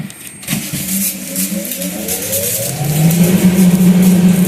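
A Kaiser machine is switched on and runs loudly, its motor whirring up in a rising pitch and swelling into a heavy, sustained drone close by with no talking.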